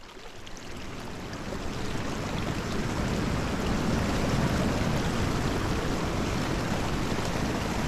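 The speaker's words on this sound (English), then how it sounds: "It is a comfort to hear the sounds of flowing water." Flowing water rushes steadily in a broad, even wash that swells slightly after the first second and holds constant, with no voices.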